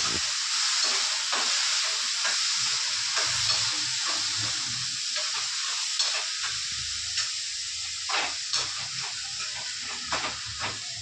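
Half a kilo of finely chopped tomatoes fries in a pan for tomato gojju, making a steady hissing sizzle with scattered pops and occasional stirring scrapes, close and without talk.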